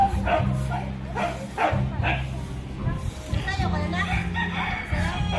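Several dogs bark excitedly at a building site after a concrete slab pour, with rooster-like yelps mixed in, loud and continuous under nearby talk.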